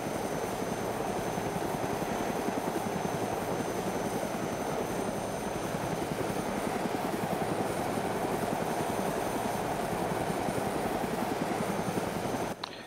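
Helicopter rotor and engine drone steadily and loudly throughout a landing in the video game DayZ, a dense continuous whir that cuts off abruptly at the very end.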